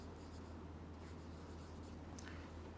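Steady, faint scratching of writing on a board during a Class 10 biology lecture, continuing throughout under a constant low hum with no speech.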